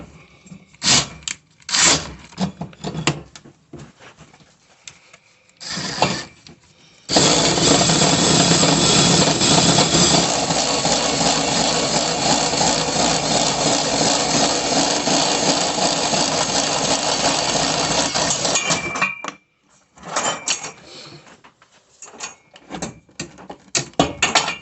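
A hole saw bores slowly through a heavily lubricated, expensive steel chassis tube for a cross bar, giving a steady, loud grinding whine that runs unbroken for about twelve seconds, with short bursts of tool noise before and after.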